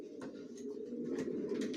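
Racing pigeons in a loft keep up a dense, continuous murmur of overlapping coos, steady and moderately close, with no talking over them.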